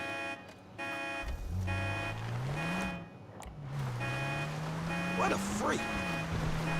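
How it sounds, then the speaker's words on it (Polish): A car drives in the video game GTA V, its engine note rising and falling through gear shifts and revs under steady game ambience, with a couple of sharp synthetic chirps near the end. "Lecimy normalnym autem."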